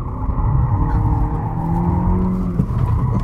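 A Mercedes C 200 slides wide during a skid test, tyres squealing in sustained, wavering tones over a steady engine rumble until the ESP cuts in, all close and loud.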